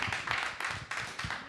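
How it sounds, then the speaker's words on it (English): An open mic audience applauds a volunteer performer named David, a short burst of steady hand clapping that carries through the whole moment with no one speaking. "let's hear a round of applause for David volunteering to be the first one up."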